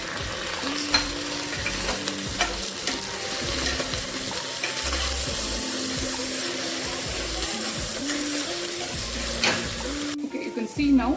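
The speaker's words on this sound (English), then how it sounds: "now the pudina leaf and the soya chunks have tossed very well" Mint leaves and soya chunks being stirred and tossed in a hot pan for broken wheat pulao, a steady sizzle with scraping spoon strokes throughout, with faint background music.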